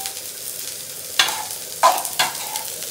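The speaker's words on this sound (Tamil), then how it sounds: "இப்போ கடுகு, வெங்காயத்தையும் கருவேப்பிலையும் சேர்த்துக்கலாம்" Mustard seeds, onion and curry leaves fry in a pan, giving a faint steady sizzle broken by three sharp stirring scrapes or drops, close up with no voices.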